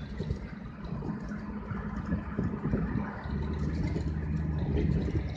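A Ford Mustang V6 with the muffler removed idles with a rough, throaty rumble, then revs and grows louder toward the end.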